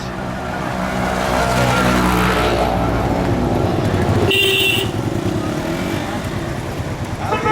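Motorcycles ridden by touring vloggers pass along a mountain highway, a steady loud engine roar with a rising and falling pass and a brief horn-like tone partway through.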